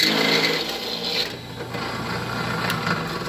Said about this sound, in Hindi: मैं इस वक्त यहाँ पे इसको ड्रिल कर रहा हूँ